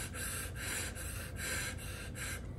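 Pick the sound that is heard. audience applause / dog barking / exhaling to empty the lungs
exhaling to empty the lungs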